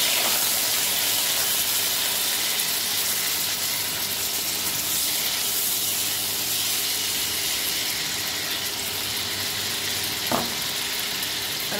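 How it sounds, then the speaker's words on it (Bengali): Cut potatoes fry in hot oil in a home kitchen, giving a steady, broad sizzling hiss that runs unbroken for several seconds, with one brief clink near the end and no talking. "এরপর আমি যে আলুগুলো কেটে রেখেছিলাম এই আলুগুলো আমি এর মধ্যে দিয়ে ভেজে নেব"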